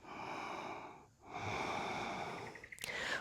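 Slow deep breathing during a yoga flow, a long airy breath followed by a short pause and another full breath, close and soft with no talk.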